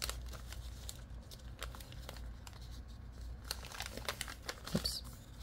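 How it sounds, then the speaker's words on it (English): Decorative paper being folded and crinkled for a junk journal, a run of close, uneven rustles and crisp crackles with a few sharper crinkles near the end, no voices. "Maybe I will even add one of these pretty papers. Again, I will fold it up."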